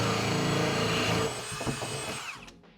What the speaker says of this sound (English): And now we just need to drill our hole.